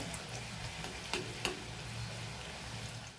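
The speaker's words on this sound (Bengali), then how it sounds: "সমস্ত নিমকিগুলো আমি এইভাবে ভেজে নেব" Quiet, continuous sizzle of nimki pastry frying in oil, with a couple of brief clicks from a utensil.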